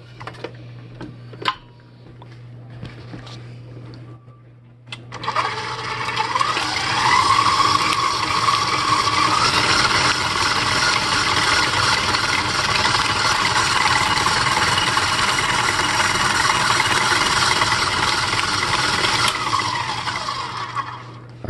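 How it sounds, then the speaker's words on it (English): An electric stand mixer starts up on high, beating oatmeal cookie dough with molasses, raisins and walnuts, a loud steady whirring hum that runs continuously for about sixteen seconds before a faint drop near the end. "then you're going to mix it on high for about 1 minute."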